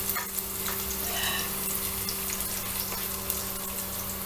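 Garlic added to softened, translucent onions sizzles steadily in a pan, a continuous close frying hiss with a faint background hum and no talking.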